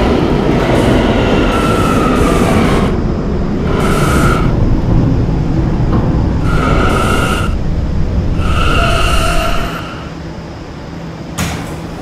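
An R179 E subway train in a Roblox video game runs with a steady, loud rolling rumble, overlaid by repeated chime-like tones and door sounds, without talk.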